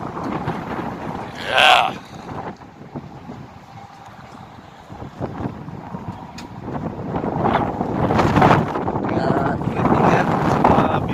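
Strong sandstorm wind buffets the microphone in gusty, roaring surges that build louder toward the end, with a brief voice heard over it.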